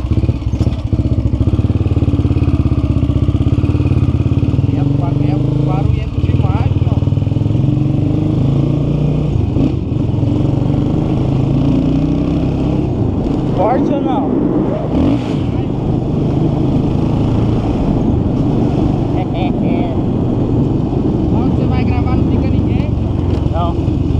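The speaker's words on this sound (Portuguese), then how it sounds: "Vamos pôr pra berrar agora?" A Honda Twister motorcycle engine revs hard while a rider practises wheelies, loud and close with rising and falling throttle bursts, and people talk over the steady engine roar throughout.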